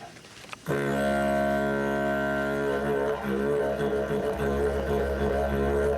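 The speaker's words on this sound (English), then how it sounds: "That's the sound of the didgeridoo." A deep, continuous didgeridoo drone starts after a brief quiet moment and holds steadily, rich in buzzing overtones with slight rhythmic pulsing.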